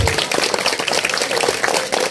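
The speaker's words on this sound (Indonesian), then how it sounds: "tepuk tangan dulu untuk ibu-ibu semua" At a Hindu temple ceremony, a crowd gives a short burst of applause for the women, with loud, dense clapping that stays steady throughout.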